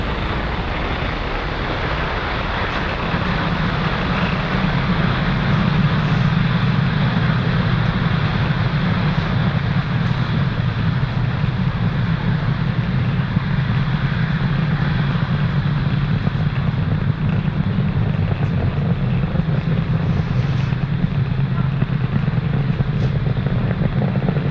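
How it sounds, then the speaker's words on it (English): A SpaceX Falcon 9 rocket climbs after liftoff from pad 40 carrying an Inmarsat satellite, its engines producing a loud, continuous, steady broadband roar with a heavy low rumble that persists unbroken throughout. "Falcon 9 has successfully lifted off from pad 40"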